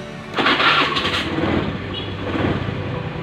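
A Honda Beat FI fuel-injected scooter engine starts up with a short rough crank, then settles into a steady low-RPM idle, close and fairly loud with no talking.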